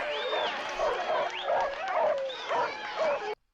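Several dogs barking and yipping together in a 1957 film, a dense, continuous chorus of overlapping barks and whines with voices mixed in.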